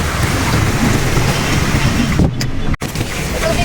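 Heavy rain pours steadily and loudly on a street in a downpour, a dense continuous hiss with a brief drop near the end and no talking.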